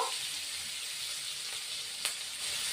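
Chopped onion meets a hot pan for a charapona fish posto dish, giving a soft, steady sizzle with a brief scrape near the end, close but fairly quiet, with no one talking.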